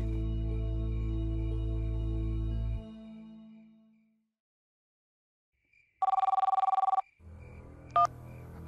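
A low hum fades into silence, then a telephone gives one short electronic ring, followed by a faint click.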